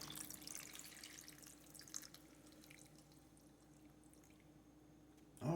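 A vinegar and water solution, one cup of white vinegar to three cups of water, trickling and dripping into a bowl, a faint, close liquid patter that tapers off, with no talking.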